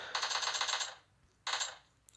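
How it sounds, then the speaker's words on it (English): Video game gunfire heard in two bursts of rapid automatic shots, the first lasting nearly a second and the second shorter, at moderate volume with a brief quiet gap between. "turn my media down so that way I can like, hear myself speak over the gunfire"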